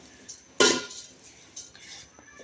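A spoon scrapes and clinks against a cooking pot while carrots and milk are stirred for carrot halwa, one loud scrape followed by softer scrapes and light knocks, close up with no speech.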